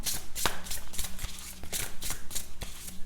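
Tarot cards are shuffled and pulled by hand, a steady run of quick riffling, flicking snaps close up, repeating in a brisk rhythm with no voices.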